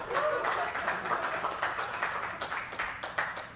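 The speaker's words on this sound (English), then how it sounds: "You can applaud." Moderate applause ripples through a comedy club audience during a stand-up set, a brief cluster of distinct claps that thins out slightly over a few seconds.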